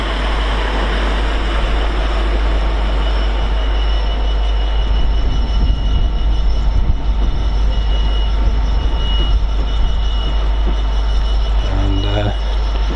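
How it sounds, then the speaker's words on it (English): East Midlands Railway diesel unit 156473 rolls into Peterborough station from Lincoln, a loud steady rumble of engine and wheels with rail noise throughout, close by on the platform. "And terminating in from Lincoln we have 156473 East Midlands Railway service."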